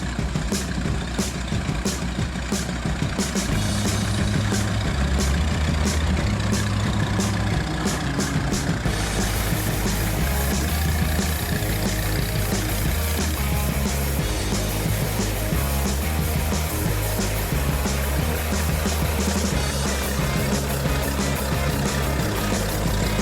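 A Fordson-Putilovets tractor driving along, its engine a constant loud throbbing drone with a low rhythmic chug, close and steady throughout with no talk.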